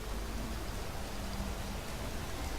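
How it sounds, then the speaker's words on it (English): Steady rain falls in an even, hissing wash that holds constant throughout, with no voices over it. "It started to rain."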